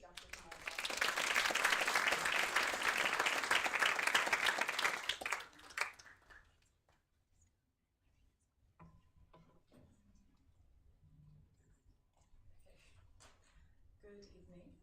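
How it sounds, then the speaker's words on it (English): An audience at an evening talk claps for a speaker, a burst of dense applause lasting about five seconds, then fading into a quiet room with scattered small knocks and shuffles. "Can we please give a round of applause to Dr. Kamanga?"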